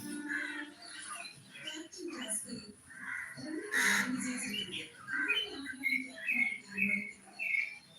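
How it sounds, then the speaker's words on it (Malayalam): Many myna birds calling outdoors, a chorus of chirps and chattering calls at moderate distance, irregular and overlapping, with people talking nearby. "എന്തോരം മൈനയാണ് മൈന."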